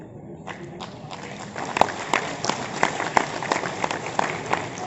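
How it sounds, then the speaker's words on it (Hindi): An audience at a training event in Lucknow claps to welcome the deputy chief minister, with moderate clapping that grows a little and stays steady, and no clear voice. "एक बार जोरदार तालियों के साथ स्वागत करते हुए"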